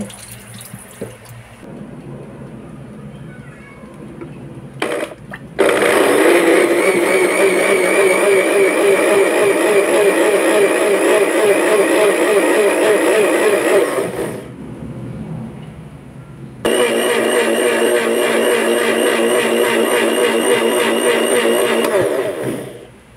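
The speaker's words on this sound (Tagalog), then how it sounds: "Pag medyo malamig na, ilagay po natin ito sa ating blender." A loud, steady whirring motor runs in two long bursts separated by a brief pause, the broadband roar of a blender grinding at close range.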